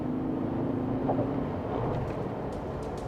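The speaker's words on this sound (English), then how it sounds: "there's a lot of wind noise" Steady wind noise rushing over the cabin of a Mercedes-Benz G 580 electric SUV while driving in comfort mode, a continuous low whoosh with faint road hum and no speech.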